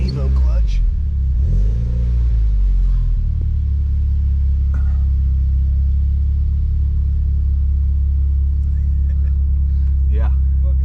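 A Mitsubishi Lancer EVO X pulls away, its engine climbing in pitch before settling into a loud, deep, sustained rumble close to the car, with voices faintly present over the engine noise.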